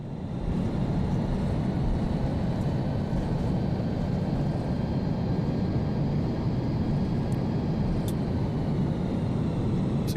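A DC-10 airliner's reverse thrust roars after landing in a flight simulator, a steady, broad, rumbling rush of engine noise at moderate level that holds without a break, with no voices.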